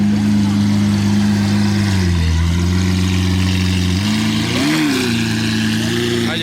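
A car with a non-stock aftermarket exhaust, painted Verde Itaka, idles and burbles with a deep, steady low rumble, dipping and briefly blipping in revs, loud and close throughout.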